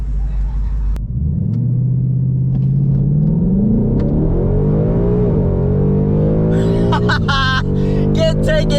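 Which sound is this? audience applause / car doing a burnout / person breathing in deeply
car doing a burnout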